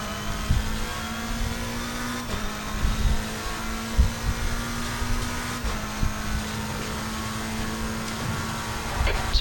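A race car engine in the racing game Assetto Corsa Competizione hums steadily at moderate level, with a sustained tonal drone and small surges, as if heard from the cockpit during a lap.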